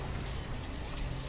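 Rain falling in the video game Banished, a soft, even patter that stays faint and uninterrupted throughout.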